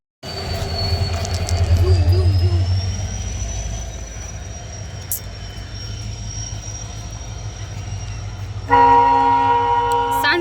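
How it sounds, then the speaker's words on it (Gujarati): A train passes close by, its loud rumble and squealing wheels rising and then easing off, with a horn blast near the end, heard among street traffic on a busy market day. "સરસ મજાની ટ્રેન જાય છે તમે જોઈ શકતા છો"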